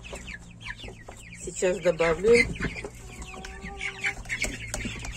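Young Mechelen cuckoo chicks cluck and peep close by as they peck at cottage cheese, a busy overlapping chatter of short calls, with someone speaking briefly nearby.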